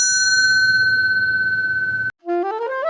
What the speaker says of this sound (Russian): Bell. Колокольчик.